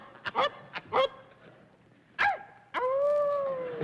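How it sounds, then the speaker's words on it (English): A dog gives a series of odd, goose-like honking yelps, several short bursts followed by a longer drawn-out honk, fairly close and alone. "The funniest sounding dog I ever heard."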